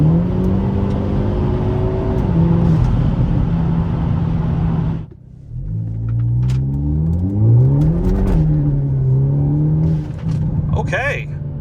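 Hyundai Elantra N with an aftermarket mod accelerating hard on the road, engine note climbing through gears with a brief lift between, loud and close inside the cabin, with talk over it.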